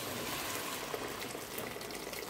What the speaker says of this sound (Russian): Сюда же добавляем кипяток.